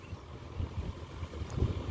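A tractor engine rumbles low and steady while it puddles a wet paddy field for rice planting, fairly distant and soft, with no voices.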